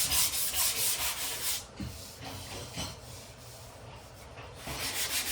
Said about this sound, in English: 170 grit sandpaper, and we're just gonna sand this like this to get those lines out